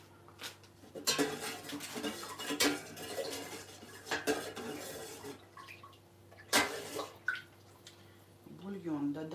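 Kholodets, a meat aspic, is ladled from a pot into dishes in a home kitchen, with clinks of metal ladle on crockery and pouring liquid in irregular bursts, while someone talks over it.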